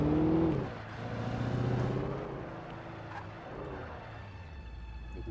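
A Chevrolet Opala V8 engine in a video game rumbles low and steady, revving up at the start and then settling into a droning idle-like hum.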